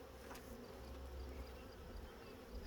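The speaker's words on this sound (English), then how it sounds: "Bees look kind of busy." Honeybees buzz steadily around an open hive during an inspection, a continuous low, even drone of many insects without speech.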